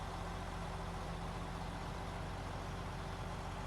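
A truck engine in the Snowrunner video game, set in British Columbia, runs with a steady low drone and hum, continuous and fairly even without clear rises.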